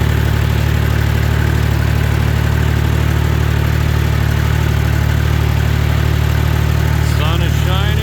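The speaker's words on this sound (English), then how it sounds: "I'm getting the old tractor fired up to go and disc up my new track" An old tractor engine runs steadily before heading out to disc a motocross track, a loud, constant low droning idle with a strong throbbing hum, a voice faintly present over it.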